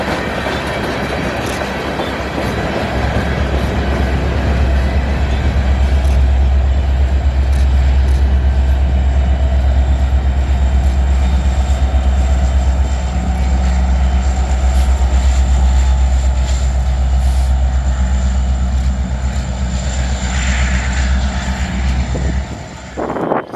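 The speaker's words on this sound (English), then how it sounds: "we did make sure to stay and see the DPUs of this coal train that was passing by" A loaded coal train with distributed power locomotives rolls past in Memphis, Tennessee, a loud steady roar of engines and wheels on rails that holds for over twenty seconds before fading abruptly at the end.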